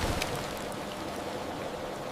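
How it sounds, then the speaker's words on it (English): Cartoon rain falls on a farm as a steady hiss of broadband patter, even and continuous, with a brief soft onset and no voices. "it started to rain"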